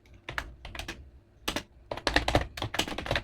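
Typing on an old-style computer keyboard, with irregular bursts of clattering keystrokes, a short pause, then faster continuous rattling close up.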